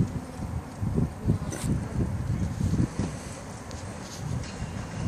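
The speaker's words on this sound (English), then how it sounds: "We're all windy out today though." Gusty wind buffets the microphone in low rumbling bursts, steady and fairly loud throughout, high up on a building wall five stories off the ground.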